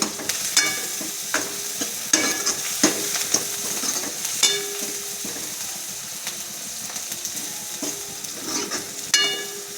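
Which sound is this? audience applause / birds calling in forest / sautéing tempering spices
sautéing tempering spices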